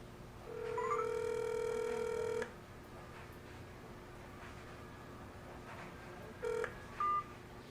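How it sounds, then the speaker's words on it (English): A phone on speakerphone dials a TK103B GPS tracker: a steady tone with beeps plays for about two seconds, followed by quiet line hiss and two short beeps near the end. "We'll dial the phone number of the unit."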